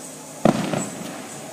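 A single firework bursts in the sky with a sharp, loud boom followed by a crackling, fading tail, heard alone outdoors.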